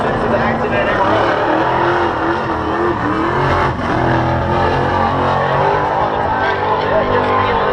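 A drag racing car rolls down a concrete drag strip at TVRP, its engine a loud steady roar with slight pitch shifts as it moves along the wall, under continuous commentary.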